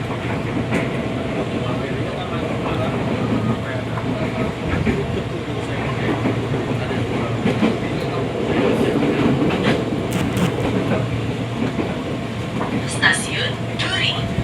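A KRL Commuterline train rolls into Duri station, heard from on board as a constant heavy rumble and rail clatter that lasts throughout, with faint voices underneath.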